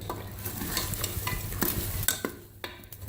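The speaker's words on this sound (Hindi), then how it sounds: "टमाटर को भूनकर अब मैं इसके अंदर बिरयानी मसाला ऐड करूंगी" Tomatoes with biryani masala fry and sizzle in hot oil while a spoon stirs and scrapes the pan in irregular clicks and knocks, close and steady, for a mutton biryani.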